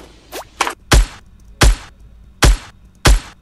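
Sharp, heavy gunshot-like bangs from the SCAR assault rifle in Fortnite, with a deep low thump, evenly spaced, after a couple of lighter clicky hits at the start.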